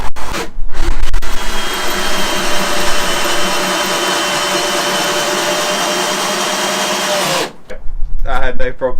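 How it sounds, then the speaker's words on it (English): A 10-year-old cordless drill whines loudly and steadily for about seven seconds while driving a 100mm screw, then cuts off abruptly, with brief handling noises before and after. "See what it's like putting in a 100mm screw."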